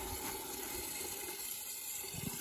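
Water poured steadily from a garden watering setup at a rural homestead, a continuous close splashing and gushing rush filling the short stretch with no talk over it.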